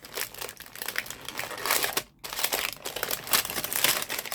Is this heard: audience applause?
no